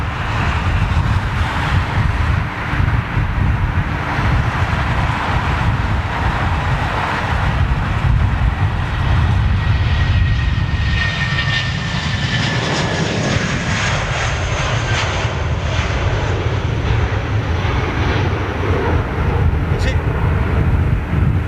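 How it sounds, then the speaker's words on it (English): A Boeing 747 on its final flight rumbles loudly and continuously while taxiing, with a heavy low engine roar and wind buffeting on the microphone throughout. "That 747's fired up. We're going to hear her taxiing up."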